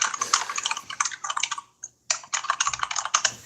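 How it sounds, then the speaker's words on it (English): Fast, steady typing on a computer keyboard, clattering keystrokes in quick runs with a brief pause midway, close and clear with no voices. "you're not going to hear the typing"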